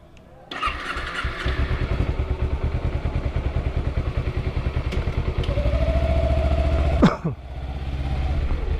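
Kawasaki Ninja 250 motorcycle with a carbureted engine starts and idles with a steady, loud, close putter, the revs rising slightly before a brief sharp blip near the end.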